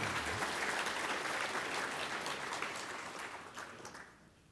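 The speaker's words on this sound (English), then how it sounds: "Let's give everyone a round of applause." Applause from an audience at the close of an awards presentation, a dense sustained clatter of clapping that holds steady for several seconds, then thins and fades out at the end.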